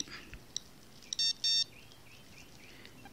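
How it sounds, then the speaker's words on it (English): Two short electronic beeps, then a pair of brief bright tones, a Casio game watch alarm chiming faintly over quiet background hiss. "the alarm chime or alarm sound will also work"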